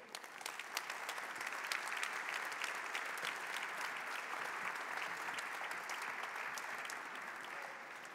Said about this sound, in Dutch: vraag ik graag uw warm applaus voor de moderatoren van vanavond, Paul Gérard en Isabel Albers